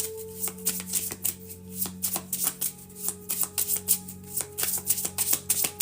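Tarot cards are shuffled by hand close up in quick, uneven riffling bursts and taps that go on the whole time, over a low steady hum.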